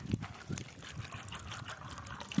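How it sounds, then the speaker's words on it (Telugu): Water poured into a pot of palm fruits, a soft close trickling and splashing that runs steadily, quiet and alone. "ఈ బాగా మునిగిందాక మనం అయితే వాటర్ పోయాలి"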